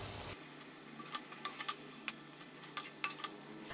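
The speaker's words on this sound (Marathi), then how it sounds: "बारीक चिरलेली कोथिंबीर एकदा मिक्स करून घेऊयात" Mushroom bhaji being mixed with finely chopped coriander in a pan gives a soft, faint sizzle under a series of light spoon taps and scrapes, with a quieter low background after the first moment.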